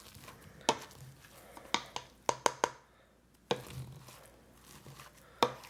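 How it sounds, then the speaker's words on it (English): Cooked potatoes are mashed in a pan for a loaded potato casserole. A masher or utensil lands in a series of sharp, close knocks and taps at an uneven rhythm, with quiet pauses between them and no talking. "I'm gonna go ahead now and mash them up."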